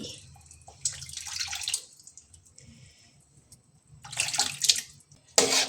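Cooked lentils go into a pot of pineapple sambar, heard as a few wet splashing pours and clatters in bursts with a quiet gap between, close in a kitchen.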